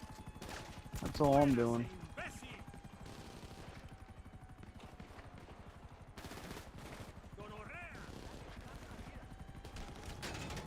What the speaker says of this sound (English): I'm gonna die from this Gatling gun shooting me, dude.